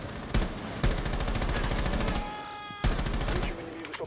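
Rapid gunfire bursts from the video game Rainbow Six Siege, with sharp repeated shots in fast rhythmic volleys, loud and close, pausing briefly before another burst.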